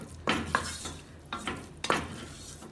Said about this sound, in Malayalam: ഇനി ഇതെല്ലാം കൂടി ഇളക്കി മിക്സ് ചെയ്യാം.